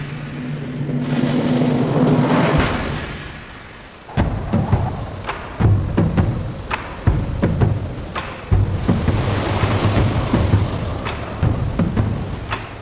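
Stormy North Atlantic weather rumbles with thunder and rain in a documentary about the retreating Armada, heavy low booms and cracks repeating loudly over a continuous wash of rain and wind, with no talking.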